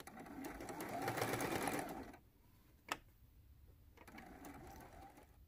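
A sewing machine stitches a seam on a t-shirt quilt with sashing, a steady close whir for about two seconds, then stopping, followed by a sharp click and a quieter resumed hum.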